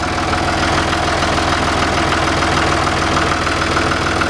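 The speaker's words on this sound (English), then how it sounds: "It is a sweet sounding tractor." A John Deere 5203 diesel tractor running on low-sulfur diesel idles steadily with a low, even chugging rumble, close and loud, with no talking.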